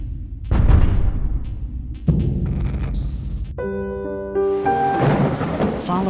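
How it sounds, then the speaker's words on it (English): Thunder rolls during a storm, deep rumbling crashes with rain hiss, alone without speech, while a swelling musical tone rises in the latter half. "The sound of thunder now strikes terror in the hearts of residents."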